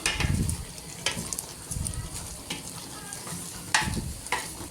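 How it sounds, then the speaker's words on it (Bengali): Taro curry being stirred in a pan: a spoon scrapes through the thick mixture in repeated strokes, with soft bubbling and sizzling in between, close and moderately loud. "নাড়া দিয়ে ঢেকে দিব দশ মিনিট পর আবার অল্প আঁচে সিদ্ধ হচ্ছে আবার নেড়ে দিচ্ছি"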